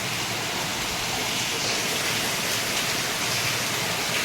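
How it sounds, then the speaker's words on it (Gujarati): Steady rain during a heavy downpour, a dense, even hiss with no breaks, close and moderately loud. "વરસાદ ચાલુ છે"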